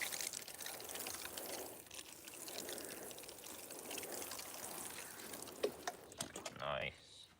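Water pours steadily onto a garden lawn for a good soak, a continuous splashing trickle that runs throughout and ends in a brief louder gush, with a voice faintly audible.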